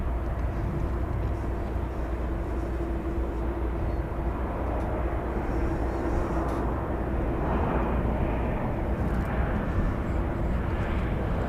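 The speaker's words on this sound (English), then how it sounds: "I hear a plane coming in." A jet airplane approaching to land at DFW Airport at night roars low and steady in the distance, a broad continuous rumble that swells slightly as it draws nearer.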